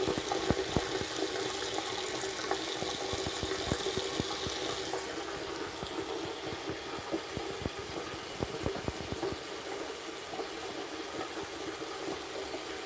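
Tap water runs steadily over soapy hands at a sink, a continuous close splashing hiss with no voices.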